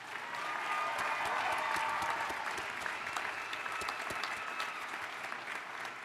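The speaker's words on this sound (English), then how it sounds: "How about another round of applause for Jeremy?" An audience claps after a speech at an evening event, sustained and fairly distant, with a dense patter of hands tapering slightly toward the end.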